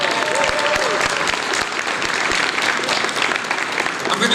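Audience at the Arab American Foundation Connect Summit Gala 2024 breaks into loud, sustained applause, a dense wash of many hands clapping that continues without pause.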